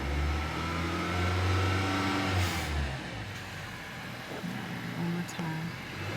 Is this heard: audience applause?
no